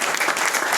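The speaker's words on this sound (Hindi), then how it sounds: "जोरदार तालियां।" A crowd claps loudly and densely at a cultural program in Punjabi Bagh, a brief burst of sustained, even applause from many hands.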